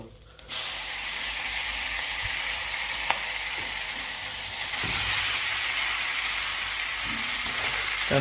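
Noodles hit hot oil in a pan and sizzle loudly, a steady broad hiss that swells slightly midway and continues without a break, close up.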